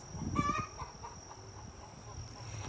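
Backyard chickens in a summer flower garden cluck briefly, one close burst standing out early, then soft scattered clucks fade under a steady insect-like hum.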